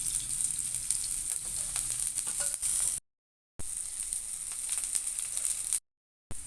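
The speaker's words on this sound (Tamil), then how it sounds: "கொஞ்சமாக எண்ணெயை ஊற்றிட்டு நடுவுலையும் கொஞ்சம் ஊற்றிக்கலாம்." Rava adai fries in oil on a pan with a close, steady sizzle and crackle, broken by two short silent gaps.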